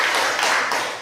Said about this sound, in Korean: 또 우리 감사한 박수 한번 하겠습니다.